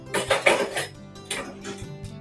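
Metal kitchen utensils, a spatula and a whisk, clatter and clink as they are picked up in a home kitchen while making French toast: a few close, bright knocks early on, then a softer rattle, with no talking.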